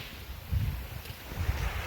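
Gusts of wind buffet the microphone in low, rumbling bursts on a seashore, with a soft steady rush behind them outdoors.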